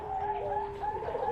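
Doves at a bird farm coo in soft, rounded repeated calls, close and clear over a quiet background, with no talk.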